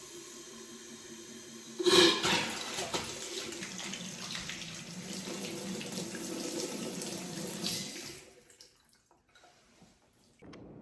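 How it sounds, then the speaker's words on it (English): A water tap opens at a house under renovation with a sudden hiss, runs steadily for several seconds, then is shut off, leaving near silence and a few faint drips. "So I'm gonna turn the water on, make sure I don't have any leaks there"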